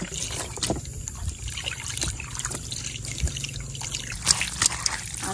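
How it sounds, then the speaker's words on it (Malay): Water trickles and splashes steadily while sea bass is rinsed clean after a short soak, a continuous close wash with faint clatters and no talk. "lepas tu kita bilas bersih"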